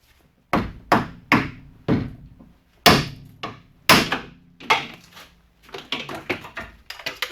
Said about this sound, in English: I'm just going to get in here with a hammer and I'm going to break this tab off of the radiator.